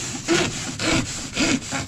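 A hand saw cuts through wood in three even rasping strokes, a steady back-and-forth rhythm, close and clear, with no voices.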